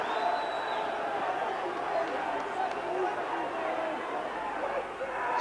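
A dense, steady roar of a large football crowd at Everton versus Manchester United in a 1988 First Division match, loud and continuous with a broad wash of chanting and murmuring and no clear break.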